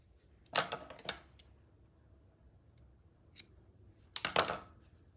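Scissors snip yarn on the back of a woven piece, sounding as two quick close crisp cuts, a faint click, then another pair of sharp snips, with no talk.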